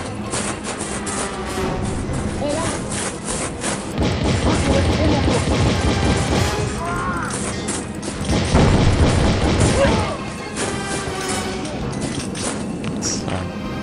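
Grenade explosions in the game Outcast - Second Contact land in heavy, repeated booms and crashes across a battle, with the player's voice heard between the blasts.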